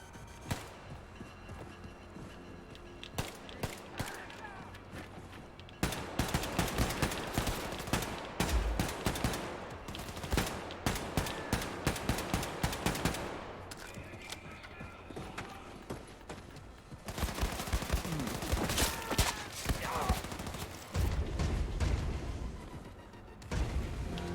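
Rapid automatic gunfire in Wolfenstein 2, dense rattling bursts that run almost continuously with brief breaks, loud and close, mixed with other game sounds.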